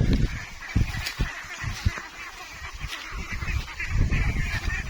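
A flock of ducks out on a pasture gives off busy, overlapping honks and quacks, fairly near and loud, with a noisy outdoor background and no speech.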